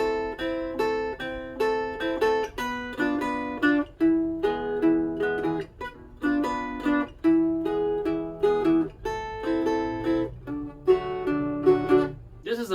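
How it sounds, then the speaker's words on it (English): Montuno rhythm strummed on a cuatro, a bright run of plucked chords repeating in a steady syncopated pattern, close and alone with no voices. "If I were to play this on the cuatro, it would sound like this."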